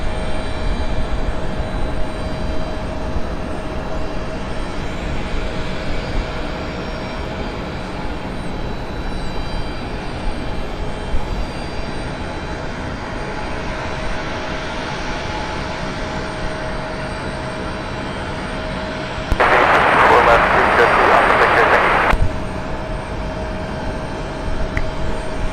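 A Sun Country charter airliner arriving at Cleveland Hopkins airport from Toledo, heard as a steady, distant jet roar that holds through the whole stretch, with a louder broadband burst near the end.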